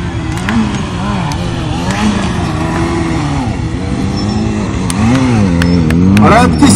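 Motorbikes pulling in and revving at a 2012 solidarity bike stunt show, engine notes rising and falling through the whole stretch and building louder toward the end, with a crowd and announcer talking over them.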